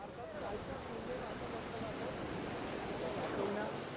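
Continuous wash of sea waves on Ganpatipule beach, Ratnagiri, a dense broadband rumble mixed with wind buffeting the microphone, steady throughout with a slight swell near the end.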